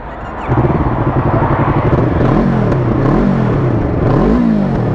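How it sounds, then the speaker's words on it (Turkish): A warm motorcycle engine with a hole in its original exhaust idles loudly nearby, then revs up and down in several surges, its exhaust sounding rough and raspy. "katıl üzerinde delik var motorun ondan dolayı orijinal egzoz ama delik olduğu için bir tık daha fazla sesi çıkıyor"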